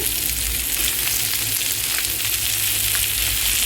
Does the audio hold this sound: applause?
no